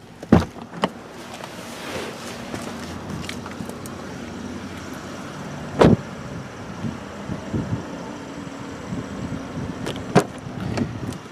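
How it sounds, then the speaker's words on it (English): Doors on a 2018 Chevrolet Impala shut with a few solid thuds spread across the stretch, the sharpest one near the middle, set against a quiet background of faint outdoor noise. "when you close the doors in the Impala, it's a really nice solid thud"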